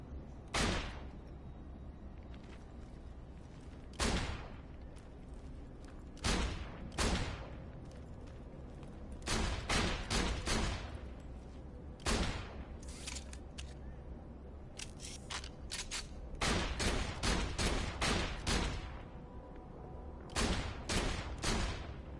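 Shotgun blasts in Borderlands, sharp booming shots fired one by one at irregular intervals, then faster clusters later, loud and close over a quiet game background.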